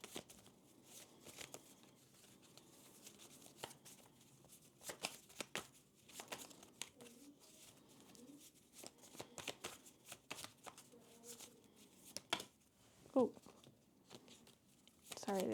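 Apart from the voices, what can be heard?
shuffling a card deck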